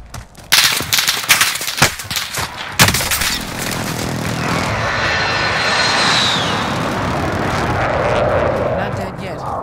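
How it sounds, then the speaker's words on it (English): An enemy precision airstrike in Call of Duty: Modern Warfare, with sharp gunfire bursts early on, then a loud, sustained jet engine roar sweeping overhead and fading into a rumbling wash. "Enemy precision airstrike,"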